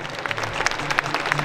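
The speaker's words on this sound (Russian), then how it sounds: "Аплодисменты, приветствуем пары." Audience applause greets dance couples at a Minsk ballroom championship, with a steady patter of clapping and distinct sharper claps standing out in a short, busy burst.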